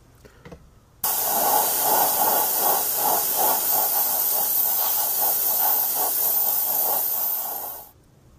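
A coat of Future floor wax sprayed over a Verlinden Productions Bullseye scale model: a steady, close hiss that starts abruptly, runs unbroken for about seven seconds, then cuts off, with no other sounds.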